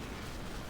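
A deep, rumbling explosion in Final Fantasy X, a dense burst of low noise filling the whole short moment with no clear onset or decay.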